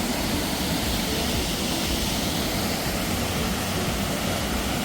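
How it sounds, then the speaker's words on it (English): Standing directly beneath the Campsie waterfall, heavy falling water makes a loud, dense, unbroken roar that fills the whole clip with no let-up. "I'll just head up underneath the waterfall."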